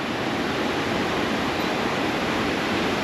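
Flowing water in the Smoky Mountains pours as an even, unbroken rushing hiss, moderately quiet and alone throughout.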